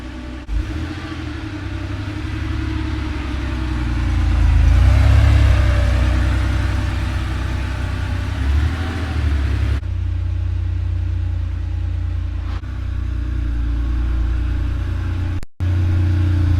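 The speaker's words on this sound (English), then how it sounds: "All right, now let's drive this." A classic Porsche 911 drives steadily, its engine a loud, close rumble that swells around the middle, with a gear change and a brief dropout near the end.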